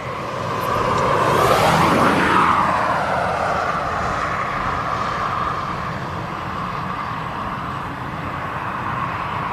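A Jet2 Boeing 737 airliner at East Midlands Airport gives a loud, broad engine roar that swells over the first few seconds, then eases into a steady, fading whine that continues to the end.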